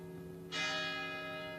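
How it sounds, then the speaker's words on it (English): A single church bell strikes to mark 11 o'clock local time in Sweden, hitting sharply and then ringing on in a long, slowly fading hum over a steady low background drone. "Church bells tolling as they tell us that it is 11 o'clock local time"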